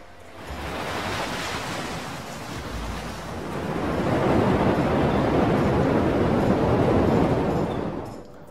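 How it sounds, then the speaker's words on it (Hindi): A sound effect for the parting of the Red Sea: a broad, loud rush of waves and wind that swells in the middle and holds steady before fading out, with no voices. "समुद्रर जल विभाजित हेला एवं सुखिला भूमि रे परिणत हेला।"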